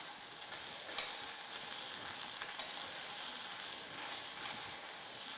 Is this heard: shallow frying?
yes